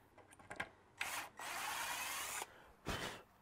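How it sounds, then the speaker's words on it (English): A step drill clears out a hole in a wooden drum tom shell, with a few quiet clicks followed by two faint rasping grinding bursts, one longer and one short. "the beauty of a step drill is I can just"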